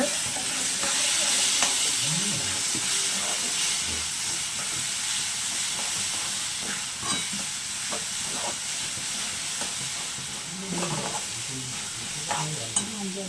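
Tomatoes with chicken masala sautéing in a pan for an egg and chicken curry, a steady close sizzle and hiss with occasional stirring scrapes.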